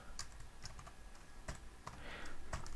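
A computer keyboard is typed on in quiet, sparse bursts: soft, close key clicks come in irregular clusters over a faint background hum, with no voices.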